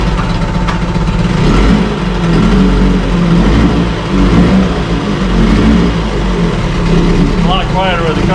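A 1973 Johnson 20 hp outboard motor runs steadily and loudly at close range, with an even, unbroken drone and a slight fluttering pulse.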